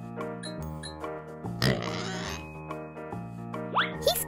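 A cartoon pig in a stop-motion clay animation makes soft, short oinks and grunts. They are quiet and surrounded by gentle music, with a brief noisy burst in the middle and no talking.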